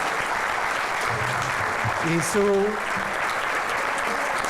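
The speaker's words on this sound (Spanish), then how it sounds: "Un aplauso," Audience applause for guest speaker Roberto Álvarez at a business luncheon in the Dominican Republic, a steady wash of clapping from a room of people with a brief voice over it.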